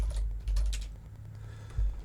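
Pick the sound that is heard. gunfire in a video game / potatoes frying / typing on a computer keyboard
typing on a computer keyboard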